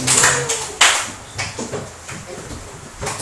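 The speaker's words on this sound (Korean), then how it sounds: "하나님께 영광의 박수 올립시다" A church congregation claps briefly in praise, a few scattered, uneven hand claps with one sharp louder clap near the start, over a quiet room with faint voices.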